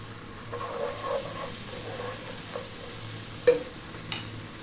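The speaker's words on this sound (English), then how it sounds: "Now our ginger paste, tablespoon of ginger paste, tablespoon of garlic paste." Ginger and garlic paste frying in a pan for an Indian fish dish, a steady low sizzle with a few light clinks of stirring and a sharper utensil tap near the end, no talking.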